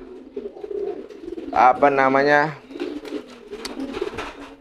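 Close pigeons give a clear throaty coo in the middle, with softer bird calls around it, while someone talks over them.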